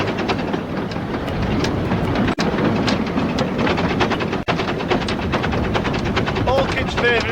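A steam locomotive on the Cleethorpes Coast Light Railway working hard up a gradient, with rapid, steady exhaust chuffs pounding close and loud in a continuous rhythm, with someone talking over it.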